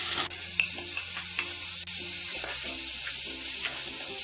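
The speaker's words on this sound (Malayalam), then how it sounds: "ഇതിലേക്ക് ഇനി കട്ട് ചെയ്ത് വെച്ചിരിക്കുന്ന പനീർ ഇട്ട് ഒന്ന് വഴറ്റി കൊടുക്കാം." Cut paneer sautéing in butter and oil over high flame, giving a continuous bright sizzle with occasional spatula scrapes and soft clinks against the pan.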